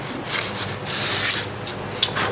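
Steady abrasive rubbing of sandpaper on walnut wood, continuous strokes that swell louder in the middle, no talking.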